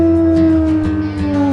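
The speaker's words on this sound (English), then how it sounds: "She's got a bit of a mournful howl there" A wolf in a video game lets out a long, mournful howl, a single sustained tone that slowly slides downward, loud and close with no talk over it.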